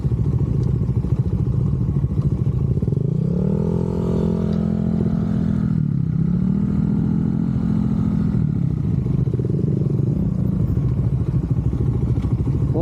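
A motorcycle rides along a mountain road in Atok, Benguet, its engine droning steadily and close with a continuous rumble, rising and falling in pitch as the rider accelerates and shifts, while wind buffets throughout.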